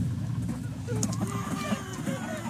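Several chickens in Totally Accurate Battle Simulator cluck and chatter softly in quick, uneven bursts over a low background hum.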